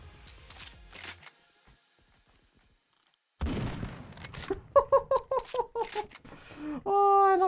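Rapid bursts of gunfire in the Roblox game Phantom Forces, a .50 calibre weapon among them, with sharp repeated shots and electronic game sounds, loud and close after a near-silent pause, with no talking.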